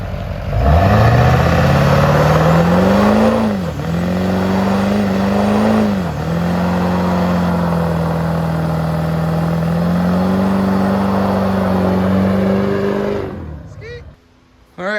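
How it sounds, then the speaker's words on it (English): A Kenworth truck engine with a misfire idles close by, a loud uneven drone whose pitch dips and recovers a few times before it shuts off near the end. "Will found out that my engine is misfiring"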